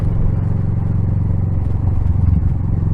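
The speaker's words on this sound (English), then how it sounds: "That lovely old tractor. I'll just keep it running while I go past this old lad." Old tractor engine running close by, a loud, steady low chugging rumble with a slight rattle throughout.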